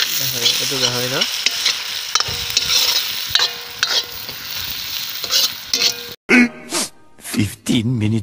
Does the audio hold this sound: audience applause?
no